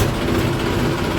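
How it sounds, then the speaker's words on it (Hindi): A Massey Ferguson 35 tractor engine runs with a steady, loud, close rumble that never varies over the short stretch, with no voices. "वाह क्या शानदार आवाज़ है मेसी की।"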